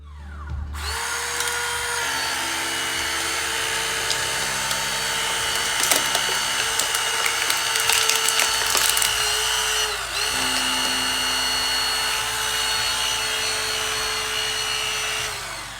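A hydraulic rescue tool pries open a car door, a loud, continuous power-tool whine with a motor drone, the pitch shifting as the tool works, plus sharp metallic cracks and snaps partway through.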